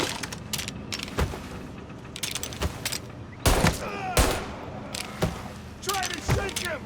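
Gunfire in the video game Mafia Definitive Edition: bursts of sharp, loud shots in quick rapid-fire runs with short pauses, heavier booming blasts around the middle, and voices shouting over the shooting.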